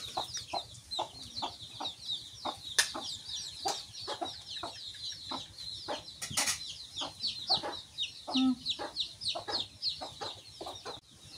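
Several chickens clucking close by in a busy, irregular stream of short calls, with a brief wing flap and scattered bird chatter.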